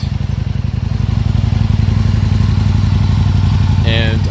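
A 2008 Aprilia Tuono Factory R motorcycle idles close by with a loud, even, pulsing engine throb that holds steady throughout, with a brief higher tone near the end.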